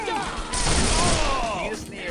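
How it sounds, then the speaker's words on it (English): Gunfire from the SWAT 4 tactical shooter game, a dense burst of shots that keeps rolling for about two seconds, loud and close, with voices faintly mixed in. "so I shot him before he could take a shot"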